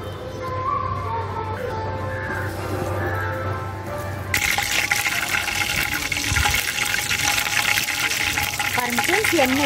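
Curry leaves dropped into hot oil set off a loud, dense crackling sizzle partway through, after a quieter stretch of background hiss, and the frying continues strongly to the end.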